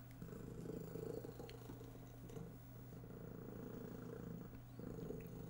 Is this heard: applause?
no